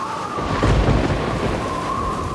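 Heavy rain roars steadily with a deep rumble of thunder swelling in the middle, all continuous and close with no voices.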